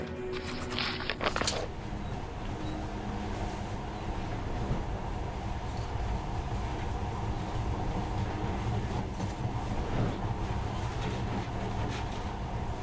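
Monorail train in the video game Metro: Last Night Redux, a steady rumbling ride with rattling and a continuous low drone, opening with a short bright clatter and then holding constant.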